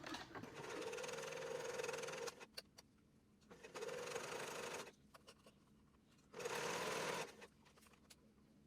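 A domestic sewing machine stitches a ribbon down a wrap dress seam in three short bursts of steady whirring, each run stopping briefly before starting again, close and clear with quiet pauses between.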